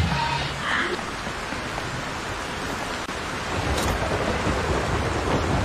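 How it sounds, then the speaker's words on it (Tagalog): Thunderstorm in the video game Ring of Elysium, heavy rain hissing steadily with low rumbling thunder rolling underneath, fairly loud and continuous, with a brief faint voice near the start. "Ang daming kidlat yun"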